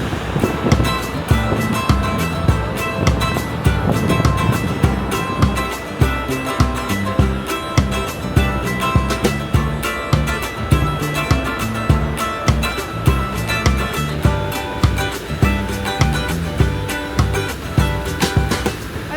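An air outlet blows steadily aboard a ferry from Tallinn to Helsinki, giving a loud, continuous rushing hiss with a faintly pulsing, rhythmic texture. No one speaks over it.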